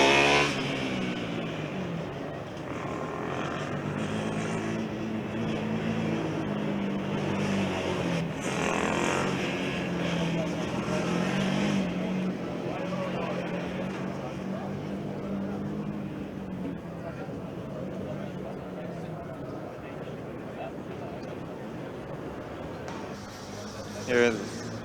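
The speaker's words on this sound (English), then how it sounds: "the car from IoT Madras continues to circulate in what sounds like second or third gear" A Formula Student race car from IIT Madras circulates in second or third gear during an endurance session, its engine droning steadily at moderate distance, with a commentator's voice running over it throughout.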